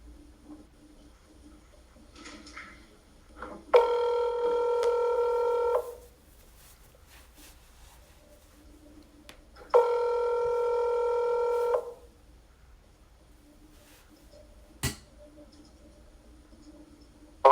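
A telephone keypad and line produce two long, loud electronic tones a few seconds apart, each about two seconds, separated by near silence with a faint click later on.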